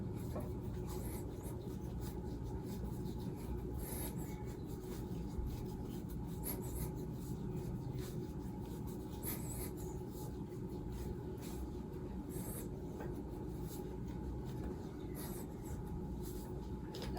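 Skin care product rubbed into the skin under the jaw and along the neck gives a soft, steady, scratchy friction that continues without pause for the whole stretch. It stays faint and close, with no talking over it.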